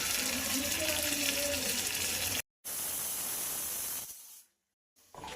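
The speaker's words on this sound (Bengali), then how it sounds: "সামান্য জল দিয়ে নাড়াচাড়া করতে হবে" Water splashed into a hot pan of chilli powder and spices, a loud hissing sizzle that cuts out briefly, returns, then fades to silence before a last burst.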